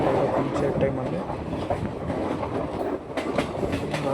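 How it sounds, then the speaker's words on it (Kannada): Aboard the Rajyarani Express, a train rolls along with rhythmic clickety-clack of wheels over rail joints and a continuous rumble, loud and near. "ರಾಜ್ಯರಾಣಿ ಎಕ್ಸ್ಪ್ರೆಸ್"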